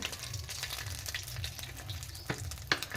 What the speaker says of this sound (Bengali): এবারে কড়াইয়ের ভিতরে আর একটু সাদা তেল দিয়ে দেবো